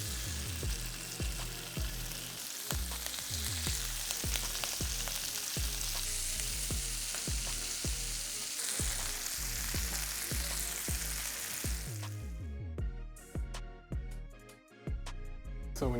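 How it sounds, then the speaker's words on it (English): Beef slices sear in a hot pan, cooked in batches for beef teriyaki, giving a loud steady sizzle with a crackling, spitting texture that runs continuously before easing slightly near the end. "I'm cooking in batches because I want these to lay out flat so I can get a good sear on all the beef"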